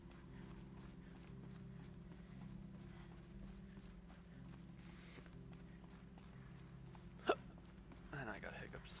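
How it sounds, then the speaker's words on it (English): One sudden hiccup from a man pops out near the end, brief and close, over the steady low hum of Horizon Zero Dawn game audio. "And I got hiccups, stellar."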